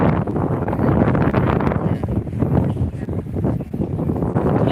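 Strong wind buffets the microphone at the seaside by Embarcadero de Legazpi, a steady loud broadband roar with gusty swells throughout, and faint talk now and then beneath it.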